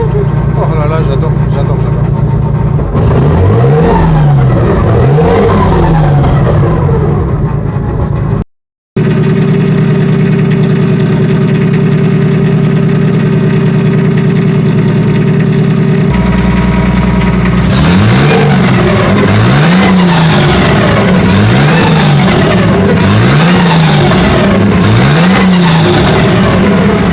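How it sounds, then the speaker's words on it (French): Car fitted with a Winters quick-change rear axle running, its engine revving in repeated rising and falling sweeps with a whining gear tone throughout, close and loud, cut by a brief dropout partway through. "je sais pas si vous entendez le bruit du pont Winters là."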